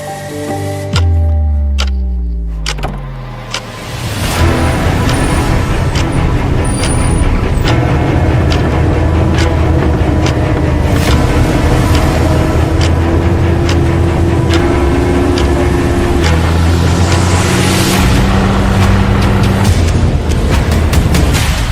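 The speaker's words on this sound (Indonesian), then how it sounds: "sekarang saatnya kita menjelajahi lautan pasir Bromo menggunakan kendaraan jeep ini" A jeep drives across the Bromo sand sea, a loud continuous engine drone with shifting gear pitch, close and rough over sand with wind and rattles and no talk.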